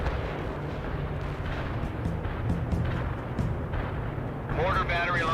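A mortar battery firing in the video game World in Conflict: repeated dull booms and bursts over a continuous rumbling battlefield backdrop, with a voice coming in near the end.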